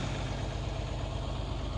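A John Deere 7020 tractor engine idles steadily close by with a failing number 3 injector, giving a loud continuous low rumble with an even pulsing beat and no voices.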